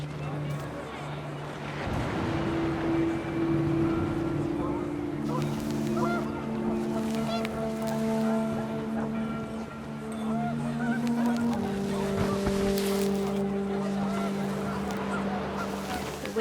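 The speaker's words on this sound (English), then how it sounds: "The wind picked up, and panicked geese appeared and quickly went." Panicked geese honk in a video game scene from What Remains of Edith Finch, with a burst of several overlapping calls near the start and more toward the end, heard over steady wind and background music.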